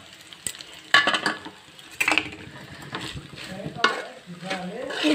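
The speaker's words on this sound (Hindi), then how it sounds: "फिर सबको अच्छी तरह से मिक्स कर लेंगे" Noodles being stirred with tomato and soy sauce in a hot pan, several loud scraping strokes of a spatula over a steady sizzle, close by and without voices.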